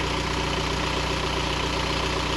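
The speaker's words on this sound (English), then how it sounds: "I'm very happy with how it's idling right now" A Volkswagen Vanagon swapped to a TDI diesel engine idles with a steady, even rumble, close and continuous with a rhythmic low knock and no voices.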